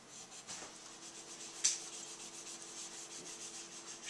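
Pencil shading on a paper sketch, a soft continuous scratchy rubbing with steady strokes, close and quiet, with one brief sharper scrape partway through.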